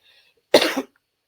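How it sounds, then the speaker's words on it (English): A single sharp cough, close and abrupt, with near silence before and after. "I'm gonna have to get some water because I can't stop coughing"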